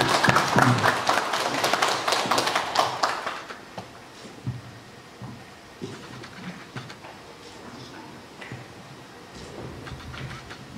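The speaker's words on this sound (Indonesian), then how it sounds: "Kita berikan tepuk tangan yang untuk" Audience applause at an Indonesian political party event, a burst of dense clapping for the first few seconds that fades into scattered taps and faint room noise.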